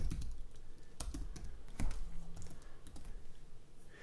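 Programming code is typed on a computer keyboard in close, crisp clusters of key clicks with short pauses between bursts.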